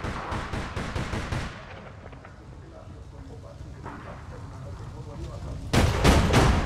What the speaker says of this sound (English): I just got shot through a wall, man.